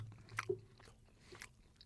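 Faint, close chewing of a chewy banana treat, soft sticky mouth sounds with a couple of small bites and no talk.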